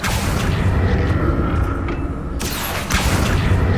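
Spells Expelliarmus and Accio cast in the Hogwarts Legacy video game, a loud, dense rumbling blast of magic with a sharp burst partway through, sustained throughout.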